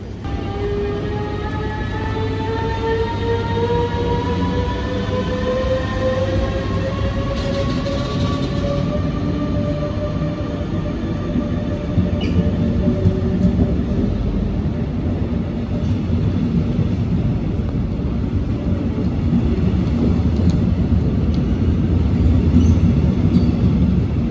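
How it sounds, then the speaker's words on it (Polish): A train bound for Copenhagen, hauled by a Vectron locomotive, runs at Hamburg Hbf. The locomotive gives a steady electric whine with rising tonal hums and wheel rumble. The sound stays close and constant, with no talk. "czyli skład do Kopenhagi z Wektronem"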